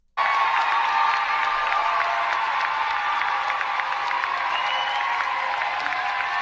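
A large crowd applauding and cheering steadily at full volume throughout, a dense continuous roar of clapping and voices with no talk over it.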